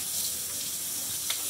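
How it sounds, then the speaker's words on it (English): Water runs from a tap in a steady, faint hiss, a brief splash or clink near the end. "you have to get the water running"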